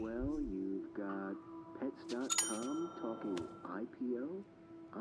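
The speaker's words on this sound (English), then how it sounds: "Ring bell again." A bicycle-style bell rings in the video game As Dusk Falls, a few bright dings sounding between stretches of character dialogue that dominate the clip.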